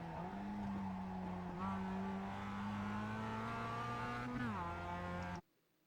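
Mazda MX-5 race car in iRacing at Summit Point, its engine droning steadily near at mid throttle with rising harmonics, a brief dip and then a quick drop in pitch before cutting off abruptly into silence.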